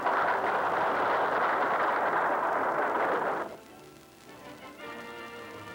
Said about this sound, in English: The cannons of Fort Norris fire a salute as Senator Morgan issues the proclamation